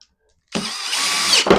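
A power drill driving an M6 by 30 mm bolt into the arm of an office chair, with a steady, loud whirring drone that starts abruptly and ends in a brief clunk.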